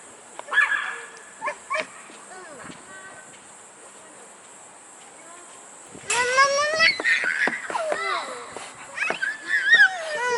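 A dog barks and yips in short bursts, with whimpering, while people talk loudly over it at a dog resort.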